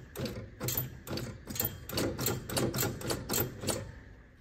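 Mechanical clicking and clattering comes from pumping the accelerator of a 1976 Ford Bronco before starting, a rapid, fairly even series of close, sharp ticks running throughout.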